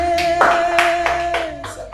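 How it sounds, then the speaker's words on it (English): In a mathematics class, students clap together in a few loud bursts that come in a rough rhythm. A sustained tonal hum runs beneath the clapping. "a round of applause for him"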